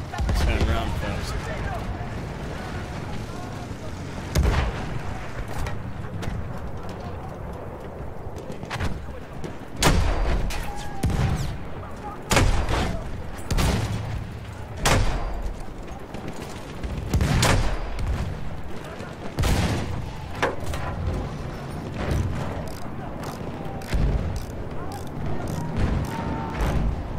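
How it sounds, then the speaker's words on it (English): Explosive booms and blasts from mortar fire in the Battlefield 1 video game, heavy impacts recurring irregularly across the stretch amid other battle noise, with players talking over much of it. "Let's get some mortars on him"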